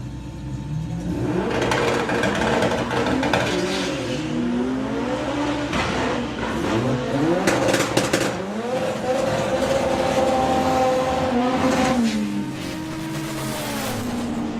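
Chris Waterhouse's Bad Habit S3 race car at Bug Jam 2024 qualifying, its engine roaring loud and close with repeated revs that rise and fall in pitch, sustained for about fourteen seconds with no talk.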